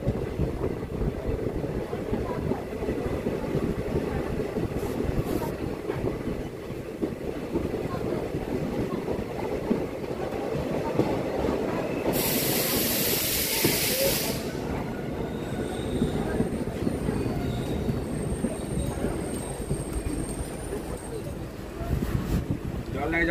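Passenger train on the Belonia to Agartala line running into Bishramganj railway station, a steady loud rumble of wheels and carriages throughout with a brief burst of high squeal near the middle and faint voices beneath.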